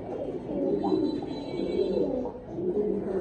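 Pigeon cooing from a male bird in a pair, soft continuous low calls close by over a steady background hum.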